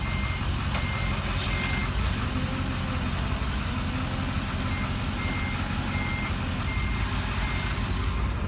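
Steady, repeating reversing beeps from a truck backing up, with its engine idling and rumbling loudly underneath throughout, close by outdoors.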